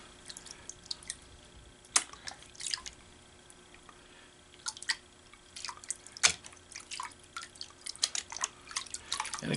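Gold paydirt panned in water over a bucket, with scattered drips, splashes and sloshing bursts at irregular intervals over a quiet background, close and alone without speech.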